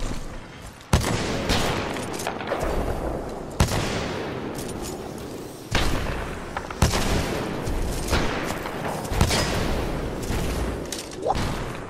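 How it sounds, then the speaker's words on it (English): Sustained gunfire from the first-person shooter Titanfall 2, with dense bursts and sharp repeated shot transients under a steady roar of battle noise, loud and continuous throughout. "I hate getting shot in this game."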